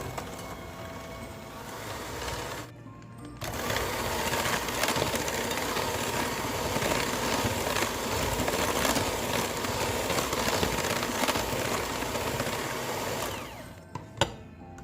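Butter and sugar being mixed together until creamy for a Jamaican black Christmas fruit cake; a steady, fairly loud motorized whir runs nearly throughout, broken by a short pause near the start and a brief dip near the end, with no talking.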